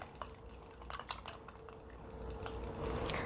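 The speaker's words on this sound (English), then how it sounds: "we're just gonna whisk this together" A whisk beats salt and fresh pepper into a dressing for a Mediterranean quinoa salad, making quiet, quick, irregular clicks and taps against the bowl that swell slightly toward the end.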